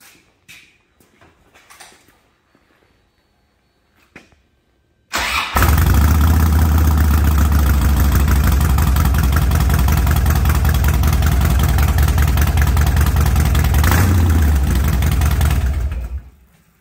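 A Harley-Davidson Road Glide motorcycle cranks and fires up with a sudden loud roar, then settles into a steady, close, thumping idle for about ten seconds before shutting off, with only faint handling noises beforehand.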